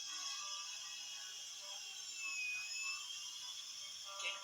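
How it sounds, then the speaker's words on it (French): A power drill drives screws into dead wood for an outdoor land-art dinosaur, giving a steady, thin high-pitched whine that runs unbroken for several seconds at a modest distance. "Quelques coups de perceuse, des vis pour fixer l'ensemble du bois mort"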